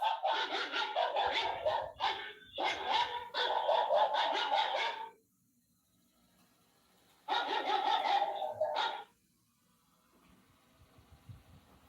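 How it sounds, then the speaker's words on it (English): Dogs bark in rapid bursts, a long volley of repeated barks, then a pause, then another short flurry, fairly close and loud, with no talking over them. "Let me go and stop my dogs."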